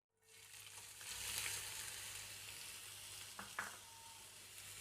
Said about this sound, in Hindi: ऑयल गर्म हो गया। अब मैं इसमें ऐड करूँगी प्याज।